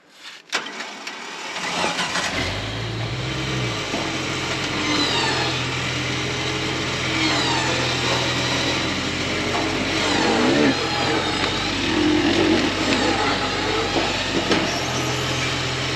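A vehicle engine starts and then runs steadily as the car drives its passenger tire up onto the fender of a recovery trailer. The engine hum holds fairly loud throughout, with clattering and scraping above it and no talk.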